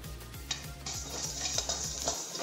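Whole spices such as coriander seed, cumin, cinnamon and cloves dry-frying in a pan, with steady rhythmic scraping and stirring strokes against the metal over a constant low hum, close by and without speech.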